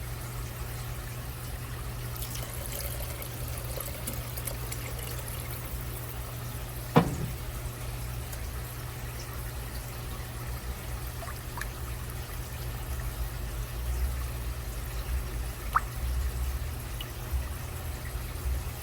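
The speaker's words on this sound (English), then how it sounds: "probably about 2 cups of water" A pot of spaghetti sauce with crushed canned tomatoes takes about two cups of poured water. The quiet, continuous trickle runs steadily for nearly twenty seconds, with a low hum beneath it and a single knock partway through.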